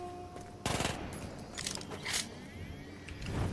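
A submachine gun fires in the video game Shadow Warrior 2, with a short loud rattling burst followed by fainter scattered shots and clatter.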